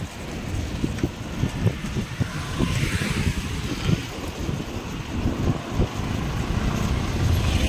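Traffic on a road near Shahupur in Satara, heard from a moving mountain bike: a constant low rumble of passing vehicles mixed with heavy wind buffeting, steady and fairly loud.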